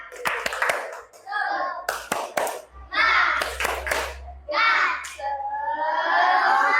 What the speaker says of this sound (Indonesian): Kita mau tetap bangkit berdiri, tepuk semangat.